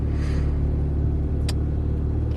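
A Mazda RX-7 FC's rotary engine idles steadily and close by with a low, even rumble, with a brief sharp click partway through.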